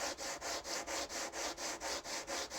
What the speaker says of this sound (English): So we got some sandpaper, just masking tape down to the work surface. Turn this over and gently rub.